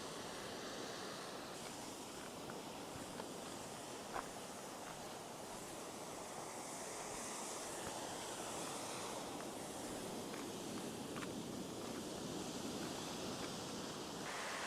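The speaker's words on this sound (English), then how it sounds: "That is the Atlantic Ocean." Atlantic Ocean surf seen from a clifftop on an island, heard as a steady, broad wash of waves with wind noise rolling continuously underneath, even and fairly loud throughout with no talking.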